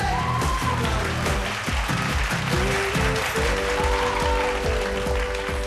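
Audience applause for a group at a vocal fusion battle show, a steady roar of clapping sustained throughout with music tones running underneath.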